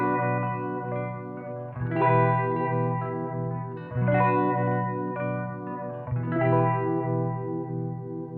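An Arctic Wolf phaser pedal on a sustained guitar tone gives a smooth sine-wave sweep, the chords swelling and receding in a regular cycle of roughly two seconds, close and clear with no talking.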